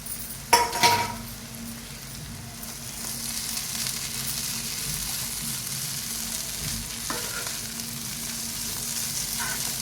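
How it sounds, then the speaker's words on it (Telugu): Flattened rice (poha) for upma frying in a pan, with a couple of clinks and a brief scrape early on, then a steady soft sizzle continuing throughout. "ఇప్పుడైతే అటుకులు వేస్తున్నా."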